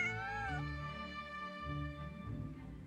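A cat meows in the video game Genshin Impact, a single drawn-out, rising-and-falling meow sounding close and clear, followed by a soft voice speaking gently.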